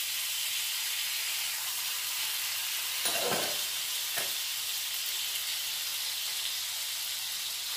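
A spoonful of butter sizzles in a frying pan as an eggplant dish gets started: a steady, bright hiss fills the whole stretch, with two short flare-ups of crackling partway through and no voices.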